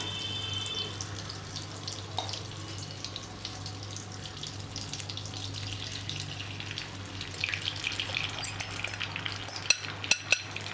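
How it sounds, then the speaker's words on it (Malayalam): Beaten egg cooks in melted butter in a pan for scrambled eggs, giving a steady soft sizzle and crackle. Brighter pops and spatters grow toward the end, with no talking. "ബട്ടറൊക്കെ നല്ലപോലെ മെൽറ്റായി വരുന്നുണ്ട്. നമുക്കിനി നമുക്ക് ബീറ്റ് ചെയ്ത് വെച്ചിരിക്കുന്ന എഗ്ഗിടാം."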